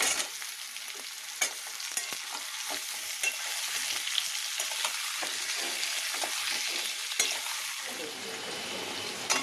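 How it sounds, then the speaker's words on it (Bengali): Potatoes, onion and garlic sizzle steadily in a pan, with a bright continuous crackle and occasional stirring scrapes, close and alone without talk. "আলু পেঁয়াজ রসুন সবই ভাজা ভাজা হয়ে গেছে"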